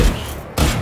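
Valorant gunfire during a college esports match, two short loud bursts close together, abrupt and punchy, with no talk over them.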